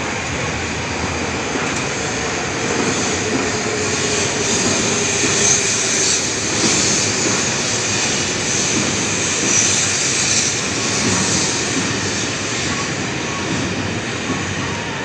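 A Shinkansen bullet train pulls into a platform at Tokyo station, a steady, broad rushing roar with hum that holds at an even level throughout without letting up.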